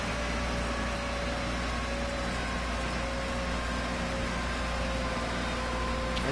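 A tractor engine in Farming Simulator 15 drones steadily with a low, even hum and broadband noise, unchanging and fairly quiet throughout, with no talking.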